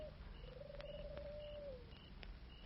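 A man imitates an owl call as a signal at night, one drawn-out hooting tone that holds steady then fades, faint and distant over low background hiss.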